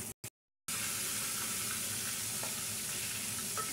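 Flour-and-spice-coated fish frying in hot oil, giving a steady, dense sizzle that continues without a break after a couple of brief clicks at the start, close and fairly loud.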